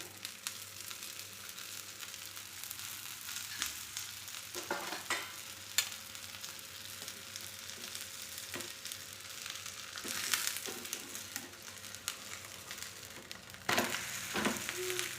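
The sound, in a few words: wheat flour adai frying in oil in a pan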